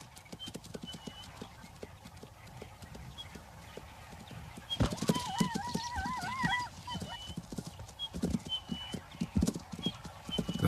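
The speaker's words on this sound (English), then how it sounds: "The stallion runs in to retrieve his daughter" A zebra stallion runs in at Chobe Park, Botswana, hooves clattering in quick, uneven beats, with a loud whinny breaking through partway along and more hoof strikes continuing after it.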